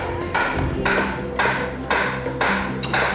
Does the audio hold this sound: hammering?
yes